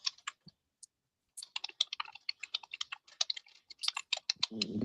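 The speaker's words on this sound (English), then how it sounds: "You don't hear the computer clicks" Fast typing on a computer keyboard nearby, bursts of crisp clicking keystrokes after a short pause, fairly quiet, with no talking.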